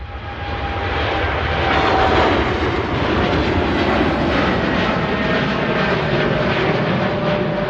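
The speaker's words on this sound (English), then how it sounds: "Qatar Dreamliner out to Doha next out." A Qatar Airways Dreamliner jet roars loudly and steadily on departure for Doha from Manchester Airport, a continuous broadband engine rumble with a faint whine that holds close and strong throughout.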